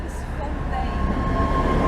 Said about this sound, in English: And there is another tram, one of the older ones.